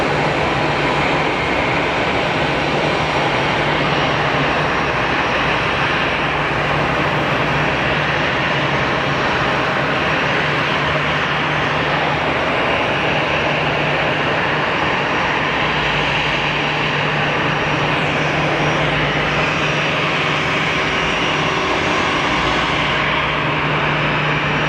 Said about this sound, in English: Got an Aegean on the taxi.